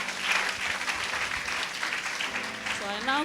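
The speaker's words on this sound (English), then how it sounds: "give the Lord a mighty clap of thanks" A church congregation clapping in thanks during a healing testimony, a short burst of dense applause with voices mixed in underneath.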